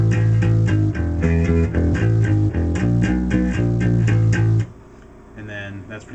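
Bass guitar playing a song riff at a slowed tempo, a steady run of plucked notes with a repeating pattern, loud and clear, then dropping to a quieter sustained tail near the end.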